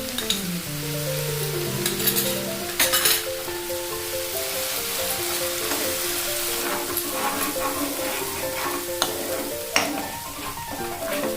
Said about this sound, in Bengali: এবার আমি এতে আদা রসুন পেস্টটা দিয়ে দেবো, যাতে পেঁয়াজের সাথে সাথে এটাও ভাজা হয়ে যায়।